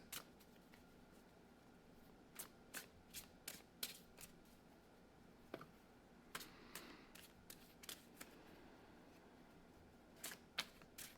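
Tarot cards are shuffled in repeated quick bursts, crisp riffling and tapping flurries separated by short pauses, close but quiet, with no speech.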